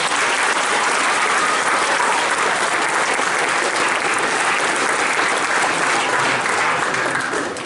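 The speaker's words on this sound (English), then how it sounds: "Could you give them a round of applause?" An audience applauds at a school spring concert, dense and steady clapping from a large crowd that fills the hall evenly and continues throughout.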